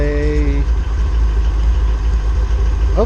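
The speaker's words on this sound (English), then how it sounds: "this was just a quick little video with a cold start with it loping hard" A Dodge Challenger Scat Pack with an MMX cam idles loud and close on a cold start, its deep exhaust rumble steady and choppy throughout with no talk.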